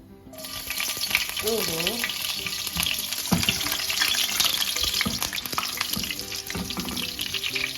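Garlic fries in hot oil in a pan, a continuous loud crackling sizzle with occasional stirring scrapes, close up, while a voice briefly speaks near the start.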